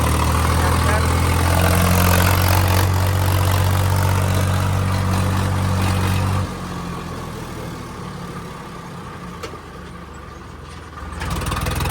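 A tractor engine idles close by with a loud, steady low throbbing hum that drops in level partway through and then rises again near the end.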